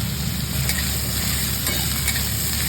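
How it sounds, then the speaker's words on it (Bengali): Spices, potatoes and carrots fry in a pan, a dense steady sizzle with a few faint scraping stir strokes, close and loud, no voices over it. "মশলাটা একটু ভাজা করে নিলাম, আলু আর গাজরগুলো দিয়ে দেবো, নাড়াচাড়া করে নেবো"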